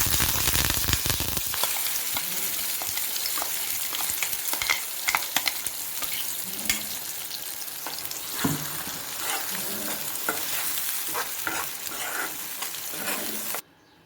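Asafoetida and curry leaves crackle and sizzle in hot oil for a mint chutney tempering, a steady dense frying hiss with occasional pops and stirring clicks, close and continuous until it cuts off abruptly.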